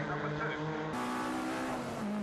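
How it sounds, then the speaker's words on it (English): A loud MG race car engine holds a steady high drone on the Brands Hatch circuit, then shifts pitch as it powers through, with a commentator talking over it. "Again, that superb engine note from Patrick Booth"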